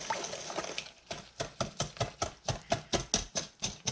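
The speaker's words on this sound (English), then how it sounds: "And we'll whisk that up." Rapid rhythmic whisking of oil, vanilla extract and three eggs in a bowl for a carrot cake cheesecake batter, a steady run of close, wet clicking strokes that speeds up into an even beat.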